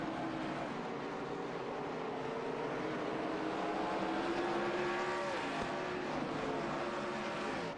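Late-model stock cars drone together around Nashville's short track in closing laps, engines held hard on the throttle in a steady, dense roar with a rising pitch sweep and no talk over it.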